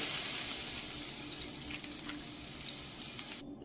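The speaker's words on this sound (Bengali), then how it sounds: "এবার আমি আস্তে আস্তে সব দুধগুলো ঢেলে দিচ্ছি" Milk is poured into a hot aluminium kadai coated with ghee, producing a faint, steady sizzle with a few small crackles and taps near the end.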